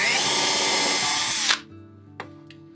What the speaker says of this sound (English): Now I'm going to pre-drill for my nails here.